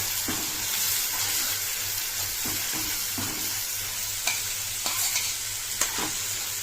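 Ginger garlic paste frying in oil for gongura chicken, a steady close sizzle with scattered scraping stirs and a few sharper clinks toward the end, no voices.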